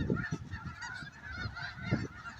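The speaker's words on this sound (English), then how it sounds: "You don't normally see snow geese around here, but every year at this time, they come through here" Snow geese honk in a busy chorus of overlapping calls, a migrating flock heard at moderate distance at Hagerman National Wildlife Refuge, with no talking.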